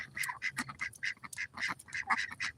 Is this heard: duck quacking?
yes